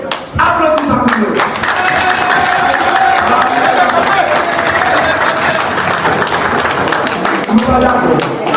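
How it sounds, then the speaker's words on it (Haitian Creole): A crowd at a political rally breaks into sustained applause and cheering, a dense wash of clapping that starts suddenly and holds loud and steady, with a voice speaking over it near the start. "applaudissez ça pour nous"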